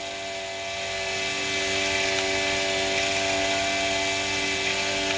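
Steady high electric whine from a kayak motor spinning under a bench test at a fixed speed. The tone is loud and constant and rises slightly as it settles, with no voices over it.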